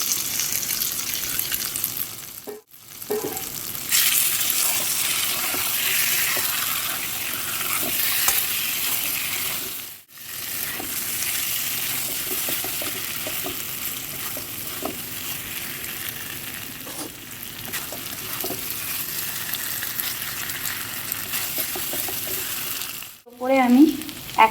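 Sautéed potatoes go into a pan of frying chicken liver, a steady close sizzle with stirring scrapes that runs on and on, broken by a few short pauses.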